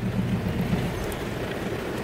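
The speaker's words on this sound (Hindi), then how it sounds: "जोर की बारिश आ गई जी" Heavy rain during a trip near Doddabetta Peak in Ooty, a steady loud wash of noise with low rumbling, continuous throughout with no talk.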